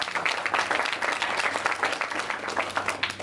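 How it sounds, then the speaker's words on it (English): A round of applause at a student Toastmasters club meeting, steady moderate clapping from a small audience that carries on evenly for a few seconds without voices. "Can we have another round of applause for that?"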